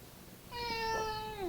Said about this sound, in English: You see the cat's all jumpy